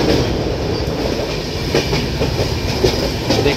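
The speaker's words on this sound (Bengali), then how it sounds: "দেখতেই পাচ্ছেন ট্রেন মোটামুটি ভালোই স্পিডে যাচ্ছে" A suburban train near Dakshineswar and Bally roars along the tracks at speed, heard from inside as a loud, dense rumble with rhythmic clatter from the wheels.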